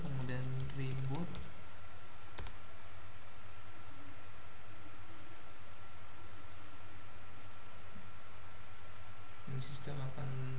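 Typing a command on a computer keyboard to reboot a Linux system, a few quick key clicks at the start and again near the end, with a quiet hiss between them.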